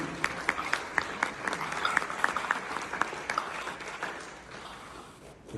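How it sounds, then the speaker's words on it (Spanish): A small audience in San Julián applauds a welcomed speaker with distinct, fairly sparse claps at a moderate distance, tapering off toward the end. "lo recibimos con un fuerte aplauso"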